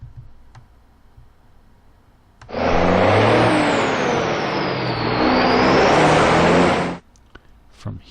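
A military vehicle engine in a Soviet-Afghan War video game swells up loudly for about four seconds as the vehicle moves up, a revving whine that rises and falls before cutting off, with no talk.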